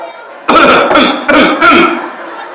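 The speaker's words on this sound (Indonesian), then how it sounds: "di belakang ada yang batuk" A few loud, close coughs or throat-clearing bursts in quick succession from an audience member at a sermon, breaking a quiet background.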